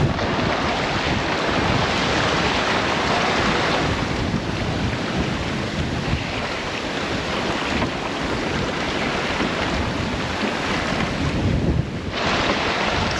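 Ocean waves roll and wash steadily around a sailboat at sea, roughly 2.5-metre swell, with constant wind buffeting the microphone; a loud, continuous surging rush throughout with no talking.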